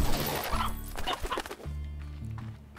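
Chickens cluck in the Slime Rancher video game, several short bird calls over busy game sounds and music.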